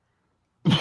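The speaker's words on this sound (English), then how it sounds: "That cough didn't sound too good." A single short, rough cough bursts out close by after a moment of silence.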